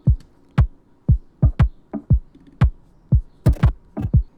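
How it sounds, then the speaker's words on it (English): A knocking-like percussion hit in a music beat, repeating as short punchy thumps in a steady, syncopated pattern, some doubled, with no other sounds. "a percussion sound that I thought sounded like someone knocking, so I wanted to throw it in there"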